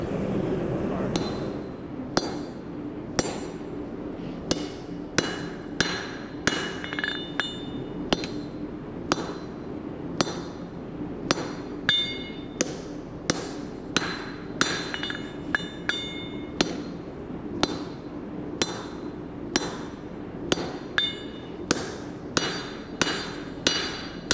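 Hammer blows ringing on steel over an anvil while forging a knife, a steady run of sharp metallic strikes in irregular pairs and groups over a low background hum.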